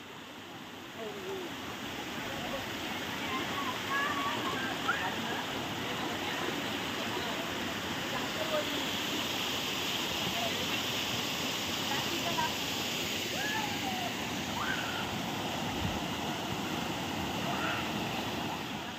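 Stream water pours steadily over a small dam built across a Konkan stream, making a continuous, even rushing roar that fills the whole stretch without pause.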